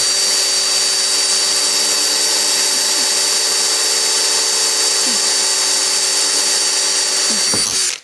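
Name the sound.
power drill drilling through car body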